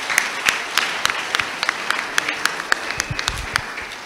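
A church congregation claps along in a steady, lively round of applause, sharp individual claps standing out over a dense wash of hands throughout.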